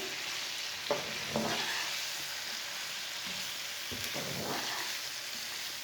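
Chilli, turmeric and cumin sizzle steadily in hot oil for a Punjabi mixed pickle, with a close, even frying hiss and a few soft stirring scrapes.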